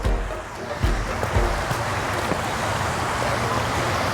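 A big outdoor waterfall on a university campus pours with a steady, broadband roar that fills the scene, close and constant, with a few thumps near the start.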